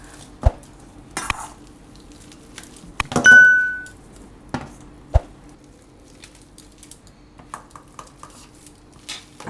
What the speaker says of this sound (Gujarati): આ રીતે બધા બટેટા મિક્સ કરી લેવાના.